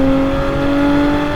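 Exhaust of a Porsche 718 Cayman GTS 4.0 driving in normal mode, a steady loud engine drone with a strong sustained tone close up and no speech.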